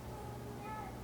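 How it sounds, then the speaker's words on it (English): A cat lets out a brief, faint meow, rising slightly, beneath a steady background of recorded music. "That was a cat, by the way."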